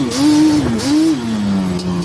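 A Yamaha Banshee two-stroke ATV engine revving in second gear, a loud, close, raspy buzzing whine that rises, dips briefly, then climbs again before easing into a steadier drone.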